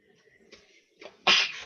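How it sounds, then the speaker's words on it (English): One sharp, fairly close sneeze bursts out after a quiet moment, with soft rustling before it and no talking. "At least I only had one sneeze."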